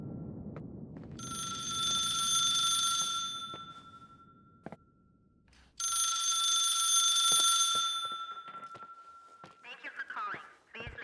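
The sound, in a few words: telephone ringing, from video game The Suicide of Rachel Foster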